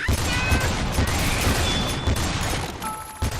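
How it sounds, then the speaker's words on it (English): A wall being smashed apart in the video game Lollipop Chainsaw, heard as a steady, dense roar of crashing and crumbling debris with scattered impacts throughout, loud and continuous. "Keep going. You're destroying the wall."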